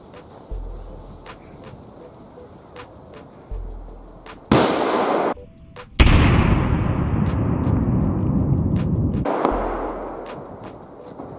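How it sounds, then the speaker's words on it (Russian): Loud firecracker bangs burst out on ice one after another, followed by a long crackling, roaring blast that fades before another sharp bang, outdoors. "мы взорвали петарды"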